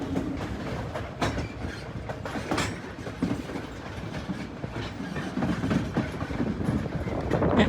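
A White Pass & Yukon Railroad train near Skagway, Alaska, rolling along the rails: continuous rumble with rhythmic clickety-clack of wheels over rail joints and occasional sharper knocks, fairly loud and close, with no talk.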